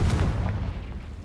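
A Confringo fire blast in Hogwarts Legacy, a short low thud with crackling bursts that fades over a second.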